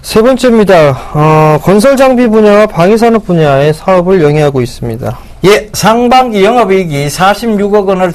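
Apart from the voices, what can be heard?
None of the usual background noises is heard.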